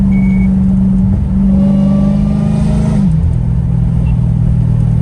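A straight-piped Dodge Challenger Hellcat Redeye accelerates, its loud, close, raw exhaust drone holding a steady pitch before dropping and settling lower, with no voices.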